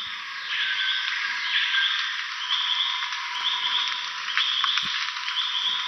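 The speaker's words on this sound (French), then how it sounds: "Donc le petit truc répété comme ça, c'est probablement une grenouille." A frog calls in repeated pulsing trills over a steady high insect-like chorus, with an occasional faint click.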